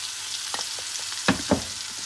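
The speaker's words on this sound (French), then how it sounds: "Moi, je mélange tout de suite avec un fouet pour pas que ça grume un peu" A whisk works flour into a white sauce for ravioli, giving a few soft scrapes and two sharper clinks against the pot over a low, steady sizzle.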